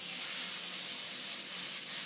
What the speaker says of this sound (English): You should hear a little sizzle when the burger's going on.